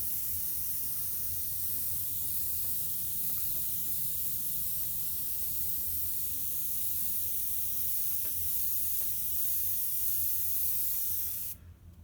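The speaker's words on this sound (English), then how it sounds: "See how gentle I'm spraying." Paint is sprayed gently and continuously from an airbrush, a soft, even hiss held steady for several seconds before cutting off at the end.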